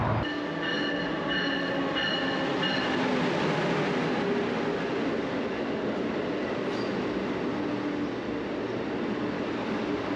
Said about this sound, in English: our train is almost here